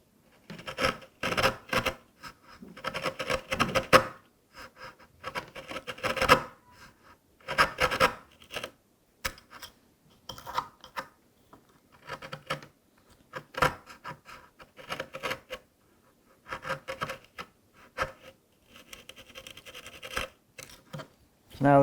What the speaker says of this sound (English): you can press the chisel into the area that's the flattest in the back here